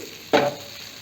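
Coriander leaves hitting a pan on a low flame for a raw mango sambar tempering, giving one short, sharp sizzle that flares up and fades within a fraction of a second, close and alone.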